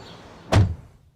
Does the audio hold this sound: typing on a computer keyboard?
no